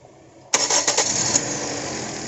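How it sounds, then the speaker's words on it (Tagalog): A Toyota Altis with a rough idle and a faulty ignition coil pack cranks briefly and fires up, then settles into a loud, close, uneven idle. "Paandarin mo nga dyan, John."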